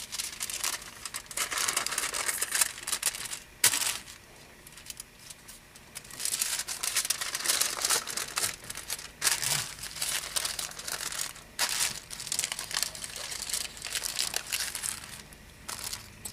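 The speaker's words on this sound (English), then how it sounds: "I'm going to fold this in half first. Figure out how much I need and start folding." A strip of material is folded by hand, giving dense crinkling and crunching bursts that run almost nonstop with a brief pause, close and fairly loud, no talking.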